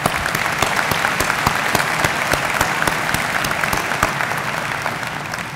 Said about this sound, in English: could you please give yourselves one more round of applause?